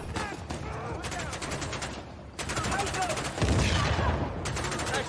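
Bursts of video game gunfire, with repeated sharp automatic shots in several volleys separated by brief pauses, loud and close, with some speech mixed in.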